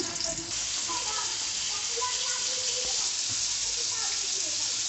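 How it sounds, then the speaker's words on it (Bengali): Koi fish frying in mustard oil in a pan, with a steady dense sizzle and crackle that holds throughout at close range and is broken by occasional stirring sounds. "এখন মাছগুলোকে আমি সুন্দরভাবে ভেজে নেবো"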